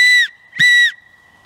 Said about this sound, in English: I'll just test the whistle out for you.